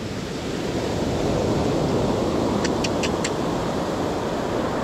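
Large ocean waves surge in a constant, loud roar on a fishing outing at sea, wind rushing over the mic and a few faint high chirps briefly poking through the wash.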